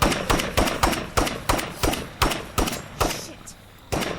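Gunfire in the zombie survival game State of Decay 2: about fourteen sharp, punchy shots fired one by one at a steady, rapid pace, close and loud, with a short gap before the last shot.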